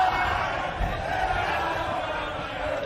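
At a $25K High Roller poker tournament, a crowd of supporters roars and cheers wildly, a loud, continuous wall of shouting and applause heard up close.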